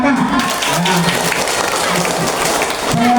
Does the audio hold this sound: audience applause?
yes